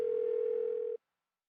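An unanswered phone call in Persona 4 Golden: a single steady electronic tone held for about a second, then abruptly stopping into silence, with no voices.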